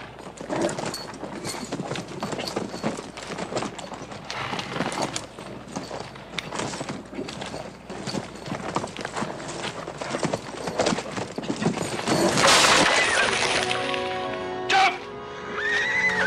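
A horse neighs loudly and close while hooves clip-clop steadily across the ground, with a sharp whinny near the end and a low background rumble.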